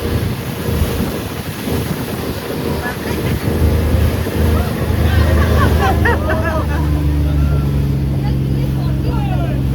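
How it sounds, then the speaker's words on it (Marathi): Sea water rushes and splashes steadily against a boat beside its droning engine, with strong wind buffeting the microphone and a voice speaking at moments, off Krabi, Thailand. "खतरनाक पाणी उडत आहे इकडून."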